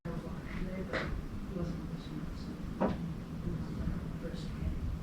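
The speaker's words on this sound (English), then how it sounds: "Oh, there was just a knock in here." A single sharp knock in a room of a reputedly haunted house, with another faint thump shortly before, both rising out of a steady low background hum.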